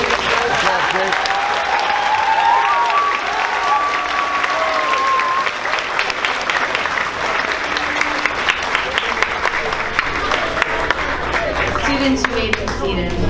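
Sustained applause from a sixth-grade graduation audience, dense steady clapping that fills the room and carries on for the whole stretch, with faint voices mixed underneath.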